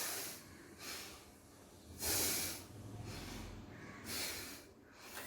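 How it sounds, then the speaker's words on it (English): Loud breathing noises during a seated rocking lung exercise: three or four forceful, hissy breaths pushed in and out at a steady pace, close and alone with no talk. "you can make this loud noise, or you can do a smooth breathing"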